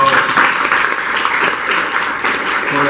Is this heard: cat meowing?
no